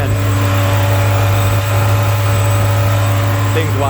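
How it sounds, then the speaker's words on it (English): Mercedes W211 E55 AMG idling with its cooling fan running, a steady loud hum with a constant low drone and whirring fan noise throughout, no clear revving. "Oh yeah, you can hear that fan."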